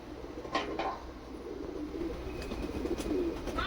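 Pakistani breed pigeons at a sale in Kolkata coo and flutter nearby, soft low throaty calls repeating several times against a mild background murmur, with no one speaking.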